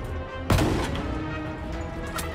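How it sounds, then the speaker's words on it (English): A tank cannon fires in a war video game, one loud booming blast with a long rumbling tail over steady battle noise. "Look at that cannon!"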